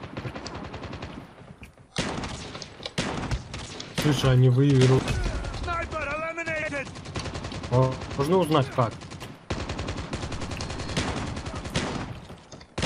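Rapid bursts of shotgun fire in the video game Call of Duty crackle over and between people talking, with clusters of shots landing close and loud.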